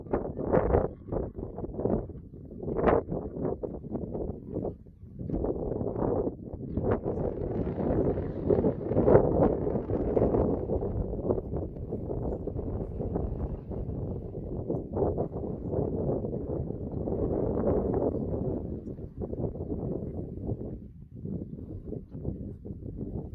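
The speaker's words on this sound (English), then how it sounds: "unfortunately I can't switch the wind off, so you'll just have to put up with that" Steady wind buffets the microphone at Skara Brae, the ancient stone village in Orkney, a continuous rough rumble with gusts swelling and easing throughout, no voices.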